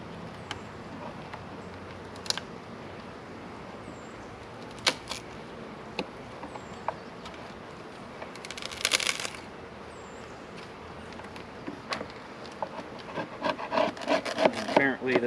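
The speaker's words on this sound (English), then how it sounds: "let's go ahead and get started with prying these open" Stapled cardboard bee package boxes pried open by hand, with close rubbing, creaking and scraping, a few sharp cracks and a burst of prying noise midway, and a faint insect buzz in the background.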